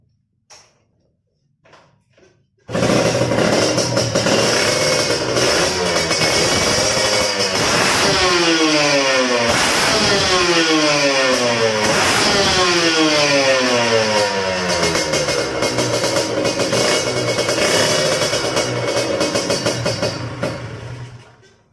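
A motorcycle engine with a carburetor due to be swapped for a faulty one starts up after a few faint knocks, then runs loudly and steadily with repeated revs rising and falling, close by and with no talk.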